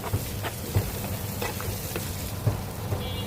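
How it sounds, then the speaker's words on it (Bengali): Chopped onion, garlic and ginger frying with salt, turmeric, chili and ground spices in a pan for a fish curry, a steady close sizzle with occasional soft stirring scrapes, no voices. "একটা প্যানে বেশি করে পেঁয়াজ কুচি, রসুন কুচি, আদা কুচি, পরিমাণ মতো লবণ, হলুদ, মরিচ, মশলার গুঁড়ো দিয়ে এগুলো কিছুক্ষণ আমি ভেজে নেব।"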